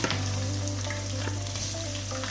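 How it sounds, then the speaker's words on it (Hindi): Chicken pieces fry in hot oil in a karahi for Peshawari chicken karahi, a steady close sizzle and crackle with a low constant hiss throughout, no talking. "चिकन को हम अच्छी तरह फ्राई करेंगे।"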